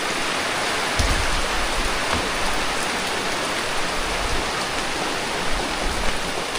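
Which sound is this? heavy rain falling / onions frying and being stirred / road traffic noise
heavy rain falling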